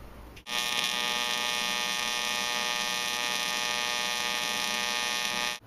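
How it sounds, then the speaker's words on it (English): A Longevity Tigweld 200DX, a 200 amp IGBT AC/DC TIG welder, runs a steady, loud electrical buzz that starts abruptly, holds evenly for about five seconds and cuts off cleanly, with no talking. "let's see how she welds"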